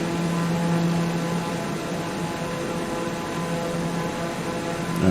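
A light aircraft engine drones steadily through a climb, a constant propeller hum with a fixed tonal whine and no pauses, heard from inside the cabin.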